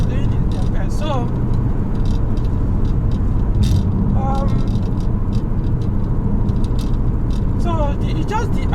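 A Peugeot 407 Coupé V6 converted to a manual gearbox hums steadily from inside the cabin as it cruises, with a low, constant road and engine drone under chirping birds and other faint outside sounds.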